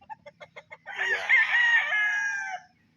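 On a farm with pullets of various bloodlines, a few quick clucks lead into a rooster's loud, drawn-out crow, close and clear, with a faint low hum underneath.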